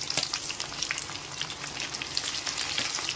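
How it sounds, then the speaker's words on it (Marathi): Sliced onions fry in hot oil, giving a steady, crackling sizzle with scattered sharp pops from spitting oil. The sound stays close and moderately loud, with no voices over it. "आता आपण याच्यामध्ये कांदा टाकूया"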